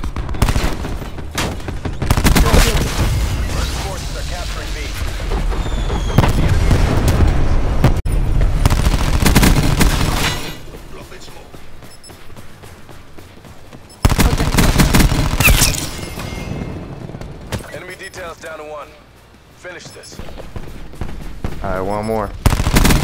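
Dense automatic gunfire from the shooter Call of Duty Black Ops 4, loud sustained bursts across most of the stretch with brief lulls, heavy and continuous rather than isolated shots.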